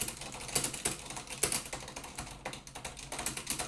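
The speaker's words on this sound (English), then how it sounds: "button mash the keys like everyone on Discord does" Cherry MX Red silent mechanical keyboard keys mashed rapidly by hand, giving a fast irregular clatter of soft key taps with a few sharper strikes, close up and steady throughout, with no talking.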